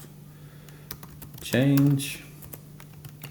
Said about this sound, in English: Why didn't I think of typing earlier?